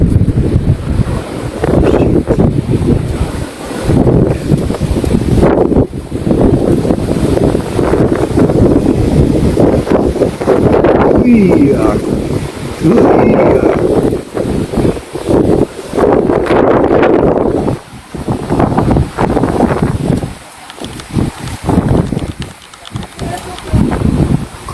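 Strong wind gusts roar and buffet the microphone near a forest fire, loud and continuous with surging bursts, and people talk underneath.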